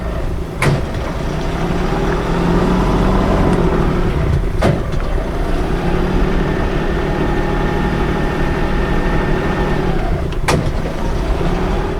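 A boat engine drones steadily and low while the vessel maneuvers to dock, broken by a few sharp knocks.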